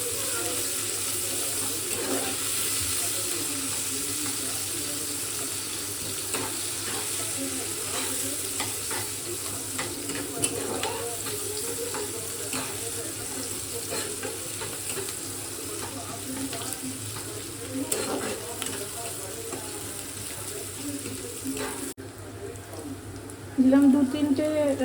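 Chopped onion and green chillies sizzle steadily in hot oil in a pan, a continuous crackling fry with occasional stirring scrapes, close and moderately loud with no talk.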